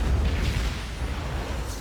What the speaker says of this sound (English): Roll the explosion from Star Trek 6 to save money.